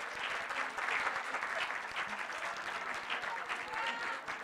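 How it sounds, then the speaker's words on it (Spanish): An audience at a university debate exhibition applauds steadily, a dense, moderately distant patter of many hands clapping that continues without pause for several seconds, with faint crowd murmur beneath. "Un aplauso para ellos."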